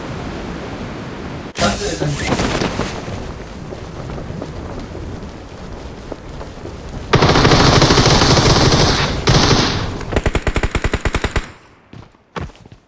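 Rapid automatic gunfire in PUBG Mobile rattles loud and close, a dense burst in the middle followed by distinct fast individual shots that break off near the end, with wind noise and voices talking around it.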